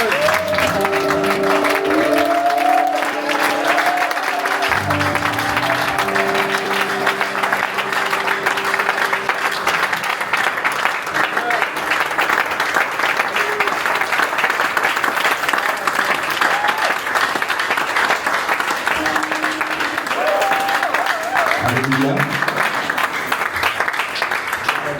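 A church congregation in Douala, Cameroon, claps and cheers in praise of the Lord, with loud, sustained applause from a large crowd. Sung or called voices rise over the applause at the start and again near the end.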